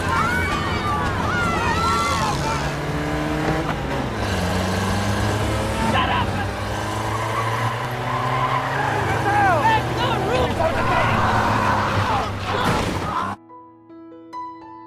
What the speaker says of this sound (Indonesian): Setelah beberapa saat kemudian lomba balap mobil pun dimulai.